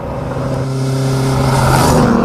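A Ford GT70 fitted with a 2-litre Cosworth four-cylinder engine revs loud and close, its engine note climbing steadily as it accelerates, with no voices over it.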